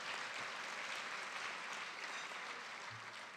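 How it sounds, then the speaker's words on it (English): Audience at a working lunch event clapping for sponsors, a dense steady round of applause from a crowd filling the room, with no speech over it. "round of applause to all of our sponsors that are shown on the screen"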